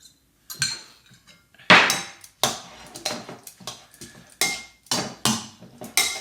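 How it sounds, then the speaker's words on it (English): Celeriac and sun-dried tomato salad being tossed with utensils in a bowl, giving a close, steady series of clinks and scrapes roughly every half second, with no talking. "Now we dress it, mix it all up."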